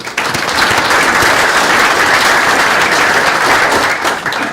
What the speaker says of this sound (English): How about a warm round of applause for Meredith?